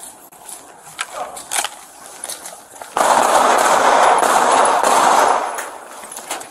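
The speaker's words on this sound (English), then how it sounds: "Shots fired. Shots fired." During a police shooting of an armed burglary suspect in La Mesa, a quick series of sharp gunshot cracks rings out, followed by a loud, harsh burst of noise lasting a couple of seconds, with voices present.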